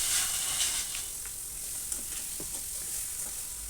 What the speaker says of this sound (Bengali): পেঁয়াজ কাঁচামরিচ ভাজার জন্য দিয়ে দিচ্ছি কুচি করা কাটা।